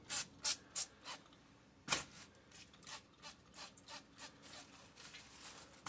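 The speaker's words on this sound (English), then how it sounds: "I just spray them. Spray them on both sides, my tortilla." Cooking oil sprayed onto tortillas in several short hissing bursts, close and fairly quiet, followed by soft rubbing and rustling sounds.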